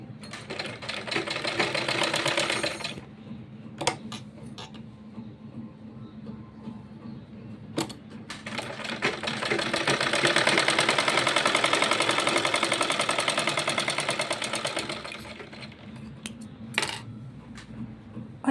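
A sewing machine stitches a small child's kurta in two loud bursts of rapid, close mechanical whirring, separated by quieter pauses with clicks and handling knocks.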